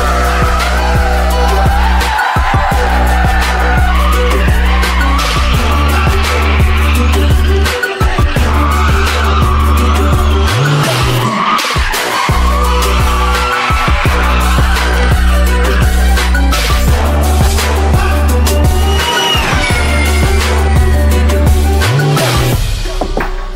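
An Audi e-tron four-wheel-drive car drifts sideways on a track, its electric drive whining loudly while tires squeal and skid continuously, with brief gaps between slides, close and loud throughout.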